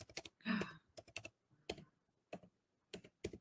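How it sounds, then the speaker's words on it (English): Computer keyboard typing, quick irregular bursts of clicky keystrokes with short pauses, close and fairly quiet, no voices. "I'm going to type it in the comments."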